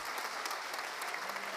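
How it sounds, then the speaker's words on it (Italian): Studio audience applause on a live Italian television entertainment show, a steady wash of clapping from many hands, fairly close and sustained without a break. "Un applauso!"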